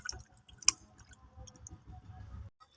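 Chicken leg pieces are washed in water by hand, giving soft wet squishes, drips and a sharp splashy click near the start over a low muffled background, close and quiet, without talk.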